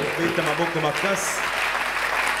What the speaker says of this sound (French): Acclamons très fort pour le roi des rois.